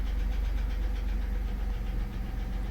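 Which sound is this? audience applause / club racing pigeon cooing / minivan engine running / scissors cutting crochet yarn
minivan engine running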